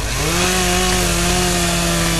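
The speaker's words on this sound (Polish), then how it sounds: "Brzeszczotem. Piła chirurgiczna." A surgical saw whines in the horror game Amnesia, a loud, continuous rising-then-steady motorized buzz that runs without a break.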